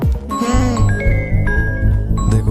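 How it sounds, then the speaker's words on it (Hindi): A mobile phone ringtone chimes loudly with bright repeating tones over a low musical background bed, with no talking. "देखो फोन तो आ गया उसका।"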